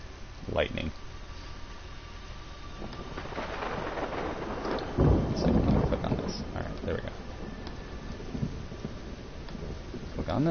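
Thunder rolls in a broad, heavy rumble over steady rain during a thunderstorm in the video game Everybody's Gone to the Rapture, peaking loud midway and trailing off, with a voice speaking over it.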